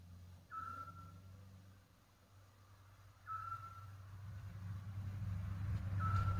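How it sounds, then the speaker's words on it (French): A vehicle passes outside an old medieval inn, its low engine rumble swelling steadily louder from a distance, with a short electronic beep repeating about every three seconds. "J'attends que la voiture elle passe."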